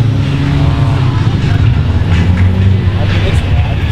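A blue Porsche GT3 rumbles nearby at a cars and coffee meet, its engine a steady loud drone with traffic noise around it while people chat over it.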